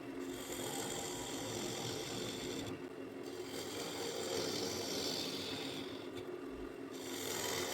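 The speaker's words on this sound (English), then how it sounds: "Switching over to the inside of the bowl, I'm using a 1/2 inch bowl gouge." A half inch bowl gouge cutting the inside of an ash bowl on a lathe, a continuous faint rasping, scraping hiss with a steady low hum and slight pauses as the tool shifts.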